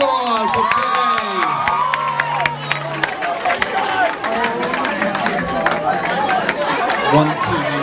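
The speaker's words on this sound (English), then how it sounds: "Give him a round of applause, okay." High school grad night hypnotist show crowd cheering and shouting in a loud, busy hall, with a few scattered claps and excited voices blending into a continuous roar.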